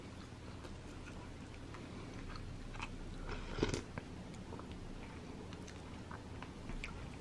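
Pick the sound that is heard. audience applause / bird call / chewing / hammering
chewing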